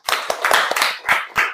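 Classroom clapping from a group of students, a short burst of brisk, uneven hand claps with distinct sharp claps standing out, fairly close and with no talking.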